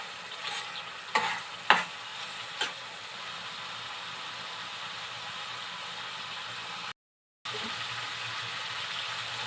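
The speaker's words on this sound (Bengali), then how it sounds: "নেড়ে চেড়ে পানি দিয়ে দেবো।" Pabda fish frying with spices and tomato, a constant close sizzle with a few sharp stirring scrapes in the first seconds, then steady frying alone after a brief gap of silence.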